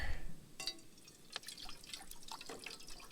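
Water is poured into a pot for cooking noodles while camping, heard as faint splashing and dripping over a soft outdoor background, with no talk.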